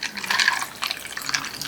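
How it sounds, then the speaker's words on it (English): Steeped tea is poured from a pot over ice, a short, bright splashing trickle with clinking, rattling ice, close and fairly loud. "I'm going to pour the tea because it's been steeping"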